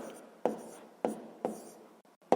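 A pen writes by hand on paper during a sixth-grade math exercise, making close, scratchy strokes in several quick bursts separated by brief pauses.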